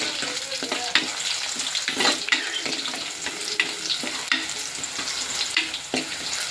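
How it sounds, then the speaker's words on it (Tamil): Small onions sautéing in a pan for a village-style fish curry, a steady close sizzle and crackle with occasional scrapes and stirring clinks, no voices over it. "சின்ன வெங்காயம் நல்லா வதங்கட்டும்"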